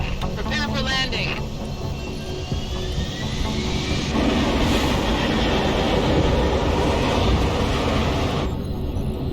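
An aircraft comes in to land in the video game Deus Ex: Human Revolution, a loud, steady engine roar and rumble that builds midway and carries on throughout, with a brief voice at the start.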